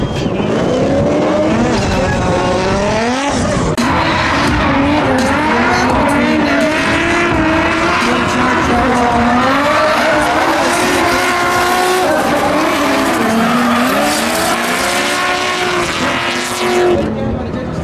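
Nissan 350Z drift cars at a wet pro-am drift competition scream past with high revving engines and sliding tire squeal, loud and continuous, while an announcer talks over it.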